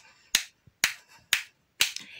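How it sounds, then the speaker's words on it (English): Four crisp, evenly spaced hand claps about half a second apart, loud and close with no talking between them, clapped along to a kindergarten counting song. "give me five claps."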